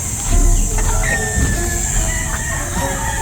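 Chickens at a backyard pond cluck and call close by, with a few short overlapping vocalizations against steady outdoor background noise.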